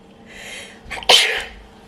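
A single sharp sneeze bursts out near the mic, preceded by a brief soft breathy intake, then fades into quiet room tone.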